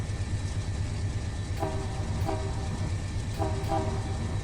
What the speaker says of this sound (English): a few blasts for the tunnel there